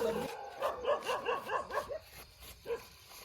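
Several dogs bark in a quick, repeated run of yelps and bow-wows at night on the eve of Kali Chaudas, close and fairly loud, then a single bark after a short pause.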